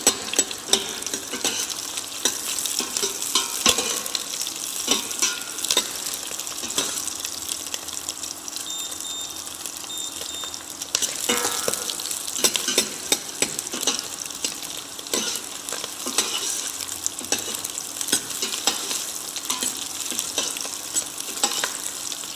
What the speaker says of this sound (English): Now we are going to saute the onion until